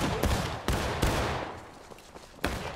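Musket volleys in the video game War of Rights crack out in several sharp, loud reports at irregular intervals, each followed by a rolling decay, with a few more distant shots in between and no voices.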